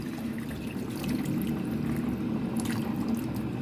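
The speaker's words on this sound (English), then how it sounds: "going to just take enough water to cover that now" About 200 ml of water is poured into a pot of spicy chicken xacuti curry, making a steady, close trickling and splashing that runs without talk.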